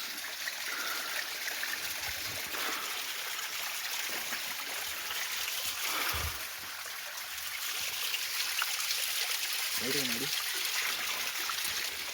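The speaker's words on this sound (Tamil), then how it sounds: "இந்த மாதிரி ஒரு நீரோட்டம் இருக்குது." A mountain stream runs at a campsite, a steady broadband rush of flowing water heard close and continuous, with a brief low voice murmuring partway through.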